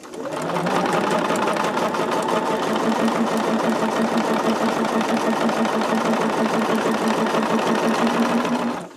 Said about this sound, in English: So all I have to worry about is chain stitching 7 at a time.